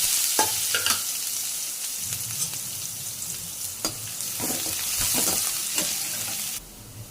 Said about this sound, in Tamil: இந்த ஸ்டேஜில் ஆனியன் ஆட் பண்ணிக்கோங்க.